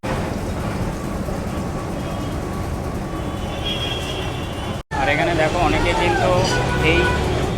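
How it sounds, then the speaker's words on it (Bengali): A Kolkata tram rolls through the city from Shyambazar toward Esplanade, a loud continuous rumble and rattle with street traffic mixed in, briefly cut off, then resuming with clattering and squealing as it nears Chandni Chowk; voices are present. "আমাদের ট্রামটা এখন এসে পৌঁছালো হচ্ছে চাঁদনি চকে"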